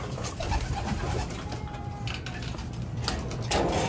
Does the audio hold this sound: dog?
no